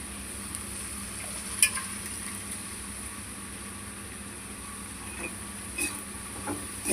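Chopped coriander cooking gently in a pan for an okra fry gives a steady, low sizzle with a few faint clinks of a utensil, heard alone without talk.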